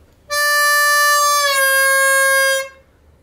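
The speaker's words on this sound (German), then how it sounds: "also ich mache mal nur noch mal den Bending-Ton ohne das Vorspiel." A single blues harmonica note is held about two seconds, bending down in pitch partway through, loud and near with no talking.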